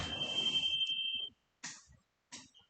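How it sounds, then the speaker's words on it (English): A quiz show buzzer sounds as a steady, shrill electronic tone lasting about a second, close and fairly loud, with a cough and brief chatter around it. "That's the buzzer."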